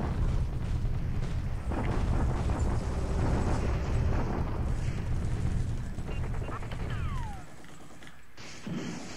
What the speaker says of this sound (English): Bombardment here just to see what he had.